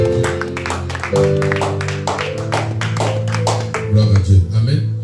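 A church congregation claps in praise of the Lord, a dense run of sharp hand claps across the room over sustained tones and voices, growing slightly louder near the end.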